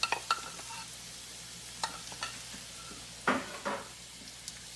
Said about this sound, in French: j'ai pilé 3 gousses d'ail que je vais rajouter dans ma chaudière